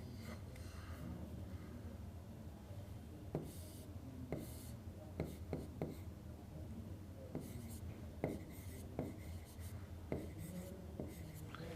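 A marker or chalk writes on a teaching board during a genetics lesson, with sharp ticking strokes and short scratches in irregular bursts, faint and close, under quiet background murmur.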